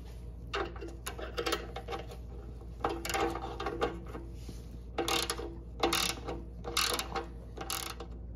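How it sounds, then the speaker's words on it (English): A ratchet tightens oil pan bolts on a Y-block Ford engine in short bursts of quick clicking, about seven bursts separated by brief pauses. It is close but fairly quiet over a low background hum. "So we're going to go ahead and tighten it down and see what we get here."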